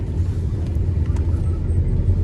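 Steady low engine rumble and road noise inside a moving Tata Altroz, continuous and close, with no voices.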